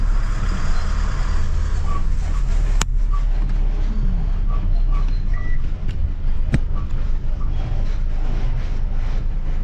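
A vehicle reverses along a busy single-lane road in Bangalore, with a steady heavy traffic rumble and faint, evenly spaced reversing beeps across the clip.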